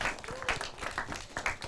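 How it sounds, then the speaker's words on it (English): A studio audience applauds steadily at the close of a talk show interview, with a voice speaking over the clapping throughout. "Very big round of applause for Jack"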